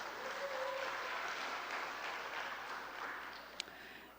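An audience at a church Sunday gathering claps in a sustained, fairly even burst of applause that tapers slightly toward the end, with one brief sharp click near the close.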